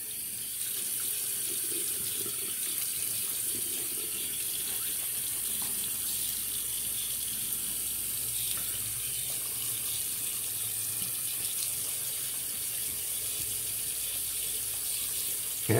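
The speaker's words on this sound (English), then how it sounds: "I'm going to get a little more water on my brush." Steady tap water runs into a sink as a shaving brush is wetted between passes of a 1934 Gillette Aristocrat razor, a continuous broadband rush that holds at an even level close by, with no talking.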